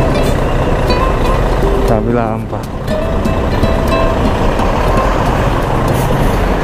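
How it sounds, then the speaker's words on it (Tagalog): Heavy road traffic with trucks and buses near Nuvali rumbles close and loud, with a hissing air-brake burst partway through, while someone talks over the din. "Ay, sobrang traffic."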